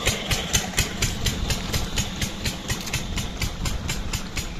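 A diesel engine pumping water from a five-inch pipe in a Punjab field runs steadily at idle, with a regular thumping pulse and close, continuous mechanical rumble throughout.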